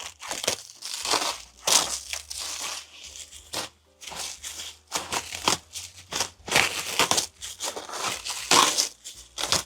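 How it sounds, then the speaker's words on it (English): Plastic cling film being ripped and torn open from around a cardboard-covered metal load, a run of loud, close crinkling, crackling bursts with short pauses between them. "So I've just got to rip open this cling film"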